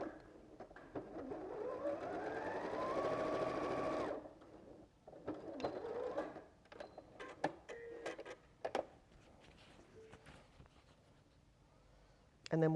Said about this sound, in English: sew your centerpiece to the bottom edge of 1 petal